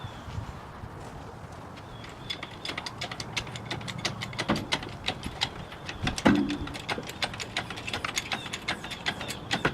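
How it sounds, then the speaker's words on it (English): A jack lifts the frame of a 2009 Ford F350 truck with its front axle left on the ground, giving a rapid run of sharp metallic ratchet clicks over steady low mechanical noise, close and without speech. "with the jack in place, we're going to jack up the frame, leaving the axle set on the ground"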